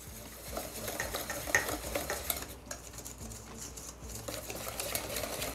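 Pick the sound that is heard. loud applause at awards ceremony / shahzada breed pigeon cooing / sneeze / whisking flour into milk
whisking flour into milk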